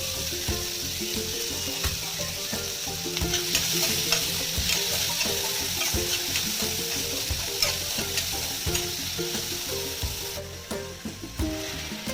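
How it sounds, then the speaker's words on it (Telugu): Onions and tomatoes frying and sizzling in a tempering for a broad bean curry, a steady loud crackle with occasional stirring scrapes, no talk. "జస్ట్ ఆనియన్ ఫస్ట్ తాలింపు వేసేసి ఆనియన్ టమాటా వేసేసి"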